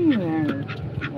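A pet duck, kept with other animals, gives a short nasal quack up close, followed by fainter repeated calls while a person talks over it.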